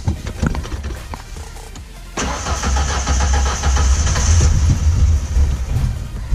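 A 1994 Ford Ranger with a replaced ignition switch cranks and then catches, a rapid starter churn followed by the engine running rough and loud up close, with no talking.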